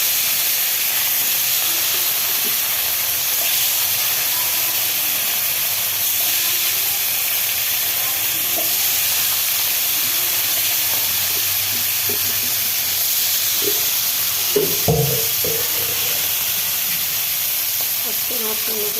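Fish frying in hot salted oil in a new wok, a steady loud hiss and sizzle throughout with a few clinks and taps of utensils partway through.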